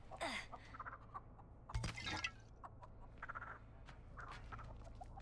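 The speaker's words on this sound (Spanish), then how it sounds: "Cuidado con la gallina." A chicken clucks in The Texas Chain Saw Massacre video game, with faint intermittent calls over low background ambience and a sharp crash-like burst in the middle.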